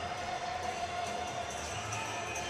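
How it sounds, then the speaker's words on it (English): An arena crowd at an Akins Ford Arena hockey game keeps up a steady, distant wash of cheering and chatter, even and unbroken. "Another great crowd here at Akins Ford Arena."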